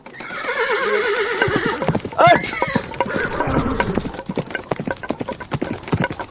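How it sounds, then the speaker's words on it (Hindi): A horse whinnies loudly with a long, wavering neigh during a comedy skit about riding. Quick clip-clopping hoofbeats then build into a steady trot, and voices call out over the sounds. "चलो घोड़े की सवारी करते हैं पहले।"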